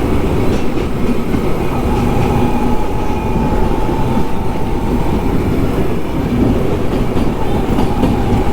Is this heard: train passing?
yes